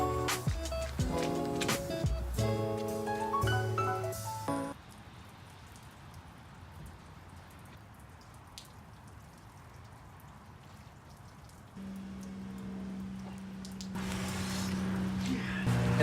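Steady rain falls outdoors while a car roof spoiler is installed, a dense even patter for several seconds in the middle, framed by music at the start and end.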